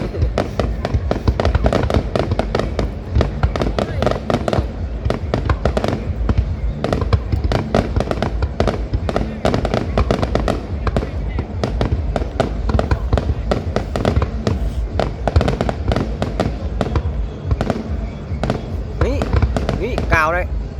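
Fireworks display for a district anniversary celebration in Thanh Son, Phu Tho, Vietnam: dense, continuous loud bursts and crackling explosions throughout, with a brief whistling rise near the end and people talking underneath.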